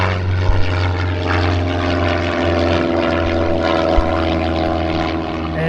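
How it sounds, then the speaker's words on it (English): A propeller airplane taking off roars steadily overhead, a loud continuous engine drone with a low hum that holds for several seconds, heard from the Missouri River at Kansas City. "Got a plane taking off"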